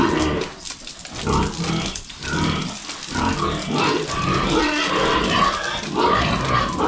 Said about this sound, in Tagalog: Ngayon po, 4 na babae na rin yung natira sa ating mga baboy at isang lalaki